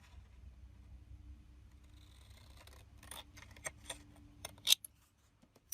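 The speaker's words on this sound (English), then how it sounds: "I'm going to cut these edges off. I'm just going to cut right along the score lines." Scissors cutting along score lines on the edges of paper card, a few soft snipping cuts in quiet surroundings, ending in a sharp close snap.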